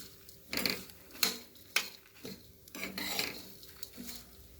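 Spices for South Indian sambar dry-roast in a heavy-bottomed pan over low heat. A spoon stirs and scrapes against the metal in faint, intermittent clinks and soft rasps.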